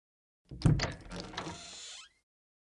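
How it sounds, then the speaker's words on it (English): A single heavy door slam in a video game, with a brief rattle, then a short decaying echo before silence. "the sound of a door being shut"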